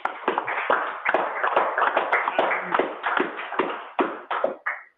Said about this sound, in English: to clap once again quickly